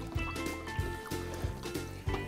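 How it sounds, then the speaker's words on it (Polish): Still water poured into a glass during an at-home cooking session with a slow cooker, a steady trickling fill with soft clinks, close and moderately loud, with no talk over it. "Lejemy super wodę."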